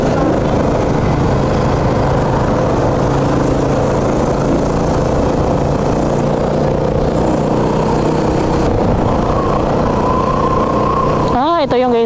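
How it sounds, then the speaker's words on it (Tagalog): Many motorcycles and other vehicles travel a city road near a bus terminal and diversion road in the Philippines, a continuous loud engine drone with passing motors, while a person talks over it. "Uy, daming motor ah."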